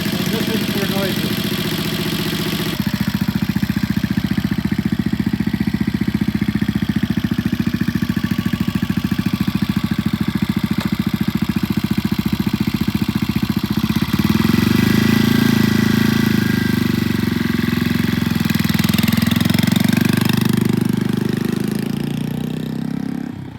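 A vintage British motorcycle engine runs steadily at idle before a test ride, a loud, close, throbbing low rumble that holds for over twenty seconds, with a slight shift in tone partway through and some talk faintly over it.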